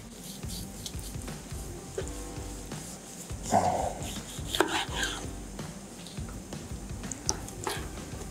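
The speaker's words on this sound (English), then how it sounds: "slice off a little bit and see how this actually goes." A knife slices through smoked brisket on a board, giving soft, close cutting and squishing sounds with a few small taps. The sounds are mostly quiet, with a brief louder moist crunch near the middle.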